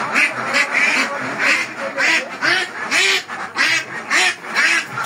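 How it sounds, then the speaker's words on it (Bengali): Ducks on a duck farm quack over and over, loud and close, a steady stream of overlapping calls with short pauses between bursts. "এই হচ্ছে হাঁসের খামার, আপনারা দেখতে পাবেন হাঁসের খামারটি কি সুন্দর"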